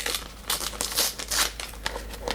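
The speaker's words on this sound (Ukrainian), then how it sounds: "я завжди намагаюся так акуратно е, відкрити цей обгортковий папір" Gift wrapping paper around a softcover book is peeled open slowly and carefully, giving close, steady crinkling and rustling with a few sharper crackles and no talking.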